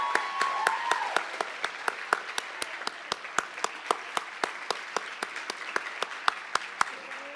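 Steady rhythmic clapping from a graduation audience keeps a regular beat for several seconds as a class speaker walks to the podium. The claps are crisp and evenly spaced, with a soft murmur underneath.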